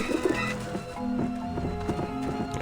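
Pigeons coo in Grim Fandango at a rooftop dish vent, a few soft, low repeated coos over a steady background, near and moderate with no talking.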